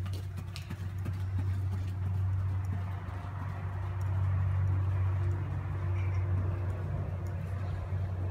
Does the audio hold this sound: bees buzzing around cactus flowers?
no